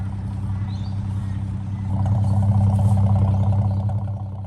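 A 1950 Jaguar Mk V engine with a full stainless exhaust system runs steadily with a deep, smooth low rumble, swelling louder about halfway through and then holding.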